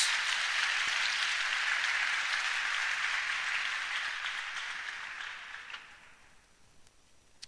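A church congregation claps in a dense, steady round of applause that slowly thins and fades out toward the end.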